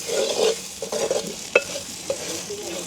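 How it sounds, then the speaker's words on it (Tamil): A spoon stirs salt into a pirandai stir-fry as it fries in a pan, with soft scraping strokes over a low steady sizzle and one brief sharper clink. "இந்த பருவத்தில் பிரட்டலுக்கு தேவையான அளவு நாங்கள் உப்புத்தூள் சேர்ப்போம் அப்படியே வடிவாக கலந்து விடுவோம்"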